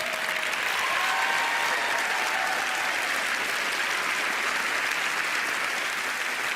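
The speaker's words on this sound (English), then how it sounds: "applause as they make their way up." A studio audience at a magic competition show claps steadily, broad, even applause filling the room at constant loudness from start to finish.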